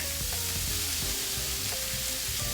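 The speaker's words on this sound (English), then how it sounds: "So now we're going to add some mushrooms to the mix." Mushrooms sautéing with garlic in a pan during Cajun cooking, a dense continuous sizzle with occasional clinks and scrapes from stirring, close and loud with no talking.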